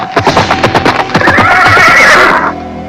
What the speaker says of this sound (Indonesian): Ketika keduanya berpapasan dengan kuda yang berlari kencang itu